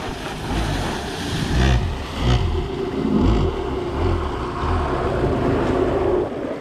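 A 650 Wavejammer personal watercraft engine with carb settings not quite right runs steadily and loudly nearby, a rough, buzzing two-stroke drone with slight surges and no talk over it.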